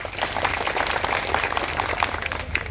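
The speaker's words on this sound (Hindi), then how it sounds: "एक बार तालियां बजा दीजिए" A crowd at an evening cultural programme honouring martyrs in Ramsanehighat, Barabanki, claps in a dense, steady burst of applause throughout, with a low hum beneath.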